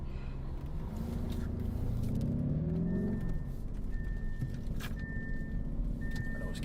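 A car in sport mode accelerates hard on a neighborhood street, its engine rising in a steady, loud whir that climbs in pitch and then levels off. A faint repeating tone sits under the engine noise.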